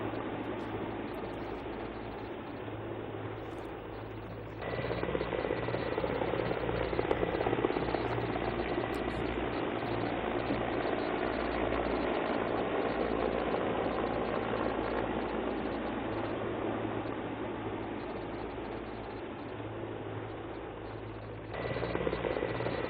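Helicopters of the Indian Air Force flying over an Air Force Day event, a steady loud rotor and engine drone that swells after the opening seconds and holds throughout, with no talk.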